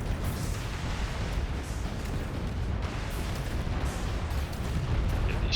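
Turrets fire continuously in the AI War 2 space strategy game, a dense, rumbling barrage of booms and bursts that holds steady and loud for the whole stretch without any talking.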